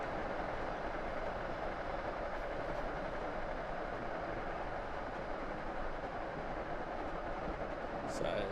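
Cab sound of an electric passenger train in the Train Sim World game on a Boston line at just over 100 km/h, a steady, even rolling rumble and hiss with a faint clack near the end.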